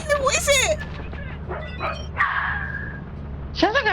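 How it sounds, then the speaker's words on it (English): Odd dog-like creature in the video game Lethal Company gives several yipping, barking calls, loud and close, over a low droning game background while players talk. "Sounds like a weird dog."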